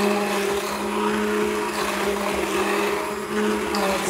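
A blender purees a tomato-based sauce for matar paneer, running with a steady, loud, continuous whir from start to finish and no pause.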